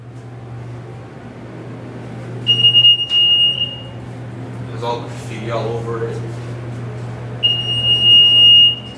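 A loud, steady electronic buzzer tone from a Schindler elevator alarm in a mall parking garage sounds twice with a gap between, over a low hum, and a person talks during the quiet stretch.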